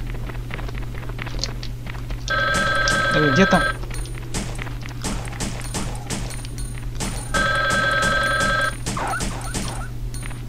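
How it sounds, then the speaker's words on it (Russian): Telephone ringing in the video game Resident Evil Gun Survivor: two bursts of an electronic ring, each about a second and a half, several seconds apart, over a steady game hum, footsteps and someone talking. "О, телефон звонит."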